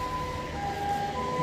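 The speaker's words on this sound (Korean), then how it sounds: "지금 앰뷸런스 소리입니다." An ambulance siren wails on a city street near a bus stop, a steady tone riding over a constant hum of traffic and street noise.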